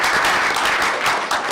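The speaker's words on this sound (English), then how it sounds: "Let's give Carly a round of applause" Steady applause from a crowd at a board meeting, dense clapping filling the whole stretch without a break, fairly loud and close.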